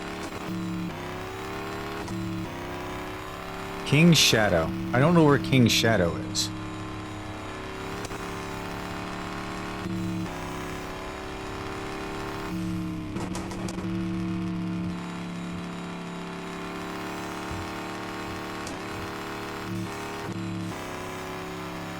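A truck drives in the RevHead video game with a steady droning engine hum throughout, while a brief burst of revving or tire noise rises around the fourth to sixth second; someone speaks briefly over it.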